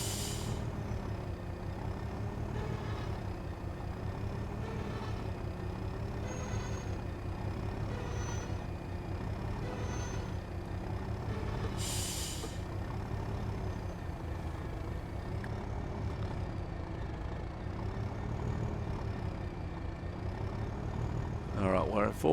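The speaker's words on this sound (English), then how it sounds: "Maybe we should put the loco brake on." A locomotive air brake in Train Sim World gives a short, sharp hiss that rises above the steady low rumble of the idling engine, with a voice talking over it.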